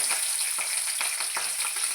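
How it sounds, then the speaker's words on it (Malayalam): Hot oil sizzles and crackles close up as green chillies fry after mustard seeds, with sharp little pops and spatters breaking through the steady frying hiss. "നമുക്ക് 2-3 പച്ചമുളക് എണ്ണ ഇട്ട് കൊടുക്കാം"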